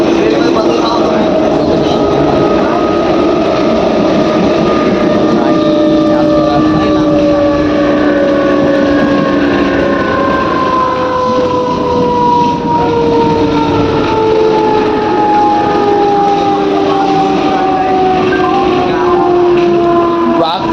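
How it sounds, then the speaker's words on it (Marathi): A passing train rumbles loudly and steadily for about twenty seconds, with drawn-out tones that glide slowly downward as it moves, and no break in the noise. "थोड्याच वेळात आपली ट्रेन येईल."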